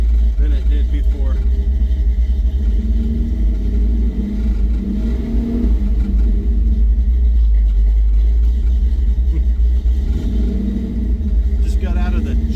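A 1963.5 Ford Galaxie with a newly fitted exhaust rumbles steadily while driving, its deep engine and exhaust drone loud and continuous, with occasional swells as it pulls, and a person talking over it.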